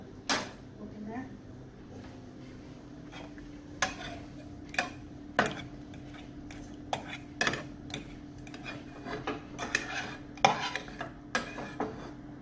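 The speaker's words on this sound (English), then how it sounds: "You can see that I'm trying to hurry it along by mushing it" Potatoes being mashed and stirred in a slow cooker for potato soup with evaporated milk, a utensil clacking and scraping against the pot in irregular close knocks over a quiet background.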